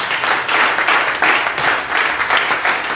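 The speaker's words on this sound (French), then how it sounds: "Acclame très fort le Seigneur." A church congregation applauding and cheering for the Lord, with dense, loud, sustained clapping that swells in steady waves from start to finish.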